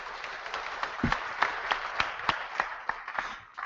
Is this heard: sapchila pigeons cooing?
no